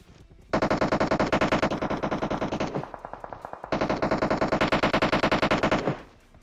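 Sustained bursts of rapid automatic gunfire in the game PUBG Mobile, loud and close, with a brief lighter volley in the middle before heavy firing resumes.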